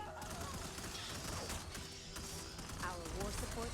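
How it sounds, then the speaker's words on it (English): Squad rifle fire in Starship Troopers: Terran Command rattles in rapid, dense bursts from several guns at once, with occasional crashes and talk over the battle din. "Squad, open fire."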